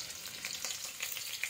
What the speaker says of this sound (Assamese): পিঁয়াজ ঢালিব কাৰণ আমাৰ তেল গৰম হৈ গৈছে এই সব পিঁয়াজ ঢালা হৈ গ'ল